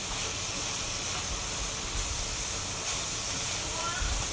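Mushrooms and green onions tossed into frying noodles, a constant loud hiss and sizzle from the pan with no break.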